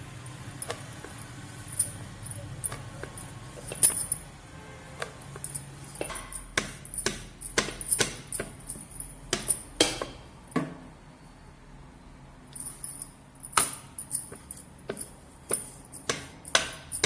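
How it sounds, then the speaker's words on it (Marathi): Paratha dough made with desi ghee is rolled out with a rolling pin, giving quiet, irregular wooden knocks and light clatter on the board, sparse at first and then coming in clusters of close taps, with no talk. "आता तुम्ही बघू शकता मी दुसरा लाटते."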